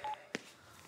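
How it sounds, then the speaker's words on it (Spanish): Telephone keypad dialing tones on a phone: two brief beeps followed by a sharper single tone, close and clear with no talking. "Voy a llamar a Laura"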